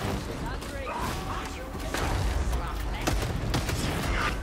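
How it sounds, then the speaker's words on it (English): Bolt pistol fire in Warhammer 40,000: Darktide, with a string of heavy booming shots, crashes and whooshes in chaotic combat, mixed with game voices. "And just keep blasting him with the bolt pistol."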